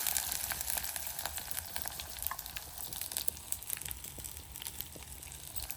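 Oil for tempering heats and sizzles in a pan set over charcoal embers, a steady close frying hiss with scattered crackles and pops running throughout, no voices.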